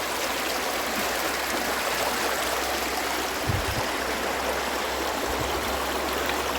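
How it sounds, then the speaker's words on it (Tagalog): Strong flow of mountain spring water rushing through a hose line outdoors, a steady, loud, continuous gush with no pauses and no voices. "Malakas yung tubig po mga kalingap."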